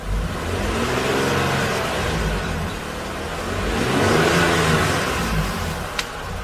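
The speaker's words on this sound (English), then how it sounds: "If I rev the engine, you'll see the number go up." A car engine revs up in the garage, the pitch climbing and falling in smooth surges with a steady mechanical drone, loud and close, with a small click near the end.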